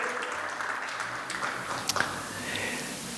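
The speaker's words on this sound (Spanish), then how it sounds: "Aplaudámosle a Jesucristo, que es el que pasó la prueba" Congregation clapping in a church, a steady, fairly dense round of applause from many hands at moderate volume, with a few sharper claps standing out briefly.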